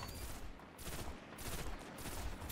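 Pulse rifle bursts in Destiny Crucible multiplayer, rapid clusters of punchy shots in quick succession with brief gaps between, fairly loud.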